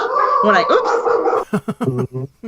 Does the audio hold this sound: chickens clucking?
no